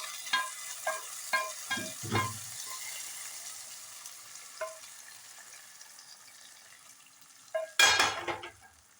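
A spoon stirs Kerala palada payasam in a pot for Onam, with soft rhythmic clinks and scrapes at first, a quiet stretch, then a louder burst of stirring near the end.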